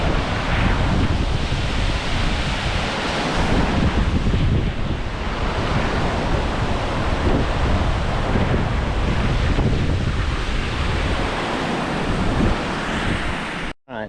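Strong, steady wind buffets the microphone on a cool hillside in Maui, a continuous loud broadband roar with slight swells throughout and no voices, ending abruptly.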